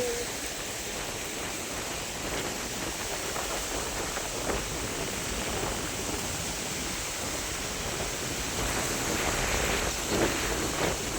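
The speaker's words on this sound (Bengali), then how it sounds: "প্রচন্ড হাওয়া হচ্ছে আর মেঘ যা ধরিয়েছে না দেখো" Strong storm wind roars steadily during a rainy-day thunderstorm, a dense, continuous rushing wash that holds an even level throughout with no clear gusts standing out.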